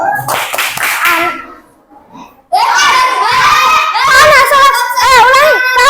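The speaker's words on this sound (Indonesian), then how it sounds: "Ayo, tepuk semangat." Class 3B schoolchildren perform the tepuk semangat clapping chant in a classroom, chanting loudly in unison with rhythmic hand claps, a brief pause, then a second louder, livelier round of chanting and claps.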